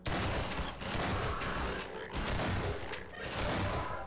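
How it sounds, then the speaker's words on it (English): Shotgun blasts and gunfire in the video game Half-Life 2, dense and continuous, with booming reports and mechanical clatter filling the whole stretch at close, loud level. "Yeah, shotgun."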